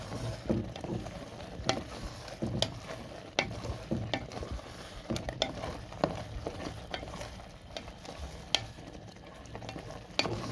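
A utensil stirs garlic into a mushroom stew in a pan off the heat, giving irregular scraping and knocking strokes against a soft sizzling background, close and moderately loud, with no talk.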